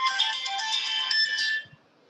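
A phone ringtone plays during an online lecture, a bright melodic electronic tune lasting about a second and a half before cutting off, followed by a couple of faint soft knocks.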